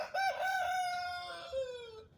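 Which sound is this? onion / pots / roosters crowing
roosters crowing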